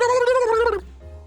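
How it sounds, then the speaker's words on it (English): Ludicolo's Pokémon cry in the video game Detective Pikachu Returns, a short warbling gargle-like call that ends abruptly and leaves a faint tone behind. "Ludicolo spotted."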